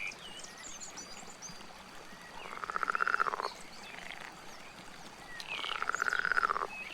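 Frogs croak in the video game Roadwarden beside a riverbank, two distinct bursts of rapid, raspy pulsing calls rising from a steady ambient water-and-night backdrop, fairly close and with no voices.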